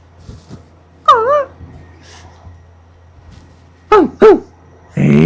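A dog whimpers in a quiet room: one drawn-out wavering whine, then two quick high yelps close together, and a short bark-like burst at the end, over a low steady hum.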